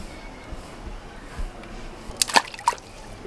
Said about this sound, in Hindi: मोबाइल पानी में गिर पड़ल आए पानी में गिर पड़ले